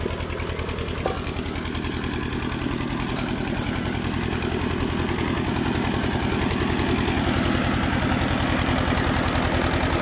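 A rice milling machine's engine runs steadily close by in a Sundarban village yard, a continuous thudding, vibrating drone that holds at even loudness throughout.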